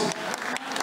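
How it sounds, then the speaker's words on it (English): Brief applause from fans at a fight-circus leg wrestling event, a short burst of clapping lasting under a second. "A round of applause for our own fans, Ring Girls."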